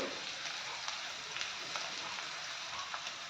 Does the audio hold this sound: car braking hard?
no